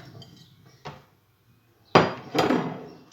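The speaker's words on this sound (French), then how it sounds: "on mélange le tout. Donc on mélange les pommes de terre" Chopped potatoes and onions being stirred together in a bowl, heard as a few clattering knocks and scrapes of a utensil against the dish, with two louder scraping bursts near the end.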